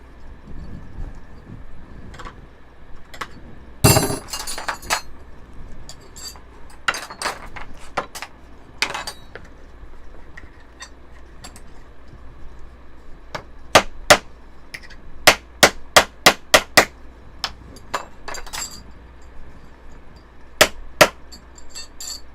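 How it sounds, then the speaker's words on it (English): A hammer strikes spoons flat on a bender press, sharp metallic clangs scattered at first, then a fast run of close blows, with quieter shop noise between. "So I'm just going to hammer straight down."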